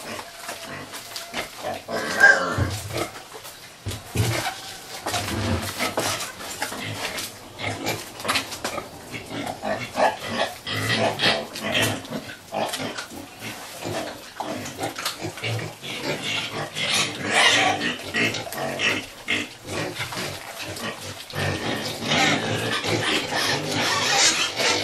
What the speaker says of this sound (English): The smell from this wonderful meal is probably going to cause some squealing in the pig fence